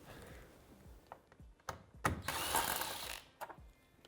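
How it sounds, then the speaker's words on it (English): Visor mounting bolts being removed from a Polaris RZR XP 4 1000 UTV with a hand tool, giving a few sharp mechanical clicks and ratcheting bursts, then a louder sustained stretch of rattling and scraping near the middle. "Next, we need to remove the two top mounting bolts in the visor."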